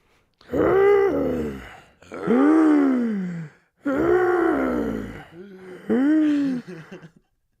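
A troll rug in a fantasy video game gives four long, heavy, groaning breaths, each drawn out and followed by a short pause, loud and close.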